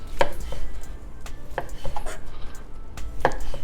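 A knife chops through cooked barbecue rib tips in a pan, with sharp, close cutting thunks in an uneven rhythm and a faint scrape between strokes. No one speaks.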